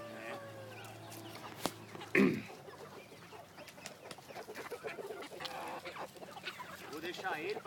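Red hens and a rooster cluck on a farm, with scattered calls and a sharp louder squawk near the middle. Someone talks over them at moderate distance.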